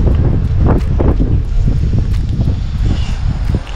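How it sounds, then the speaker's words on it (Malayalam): Strong wind buffeting across a rooftop terrace among closely packed houses, loud roaring gusts hitting the microphone in uneven bursts throughout, close and without speech. "നല്ല കാറ്റുണ്ട്."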